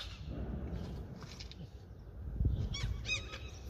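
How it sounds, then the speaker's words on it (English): A goose-like bird calling while attacking during a fishing outing: a few harsh honks near the end over heavy wind and handling noise, up close. "There's a bird attacking me."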